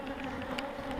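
Honeybees drone steadily around an opened beehive during a spring inspection, a close, continuous buzz with a few louder passes as individual bees fly near.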